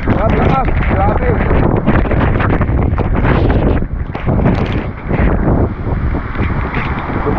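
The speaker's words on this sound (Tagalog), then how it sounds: "Dumadagungdong yung ano, hangin." Powerful typhoon gusts roar and pound against the microphone beside a swollen river, a loud continuous rushing din that dips briefly midway before surging again.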